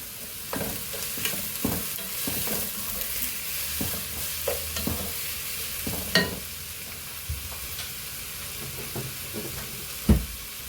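Onions and green chillies fry in a pan for chicken kadai masala, with a soft steady sizzle under irregular scraping and clinking taps from a spoon being stirred, close by and without talk.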